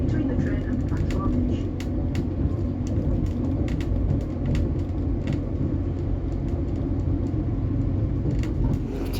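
A train rumbles steadily along the tracks into Bradford Interchange station with low droning and faint clicks, as if slowing on approach; a voice speaks quietly beneath the noise.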